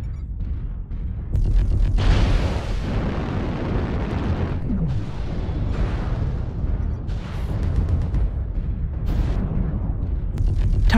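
A target is destroyed in MechWarrior Online with deep, rumbling booms layered over heavy continuous mech combat noise. The blasts are loud and close, and more bursts and thuds follow through the clip.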